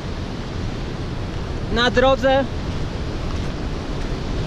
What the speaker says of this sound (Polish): w miejscu, gdzie spływa ten potok